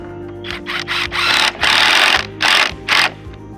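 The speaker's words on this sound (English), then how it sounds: "Screw it in." A power driver whirs in repeated bursts, driving a screw to fasten a cross member during a build, the motor spinning up and stopping several times at close range.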